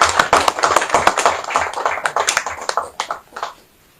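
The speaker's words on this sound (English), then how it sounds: "You can clap for him again." Audience clapping for Nigerian billionaire Aliko Dangote, a dense burst of many hands that thins into scattered claps and fades out near the end.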